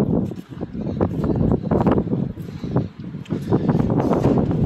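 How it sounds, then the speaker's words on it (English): Gusty wind buffets the microphone outdoors beside a renovated trailer, a constant low rumble with surging bursts throughout. "Sorry if it's windy."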